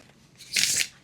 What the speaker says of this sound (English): Let's see how it shuffles now.